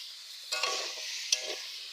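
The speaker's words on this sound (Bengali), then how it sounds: "আলু কষে নিয়েছি, কষার উপর দিয়ে দিচ্ছি কেটে রাখা বেগুনগুলো" Eggplant pieces are tipped into potatoes frying in a pan, two soft bursts of sizzling and stirring over a quiet, continuous fry.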